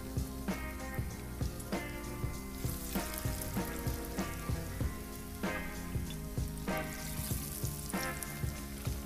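Striped bass fillets coated in Bisquick batter frying in hot oil: a close, steady crackling sizzle with dense popping that swells into brief louder bursts, with no talking.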